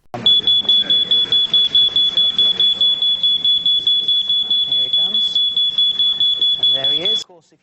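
A fire alarm goes off to test a hearing dog for the deaf: a loud, piercing, continuous high tone pulsing in rapid regular bursts for about seven seconds before cutting out, with voices murmuring underneath.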